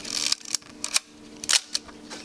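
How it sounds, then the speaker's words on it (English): The aperture ring of a film camera lens being turned: a series of about seven crisp, sharp mechanical clicks at uneven intervals, very close and distinct against a quiet background. "you hear those clicks, okay, I'm adjusting the aperture of the lens"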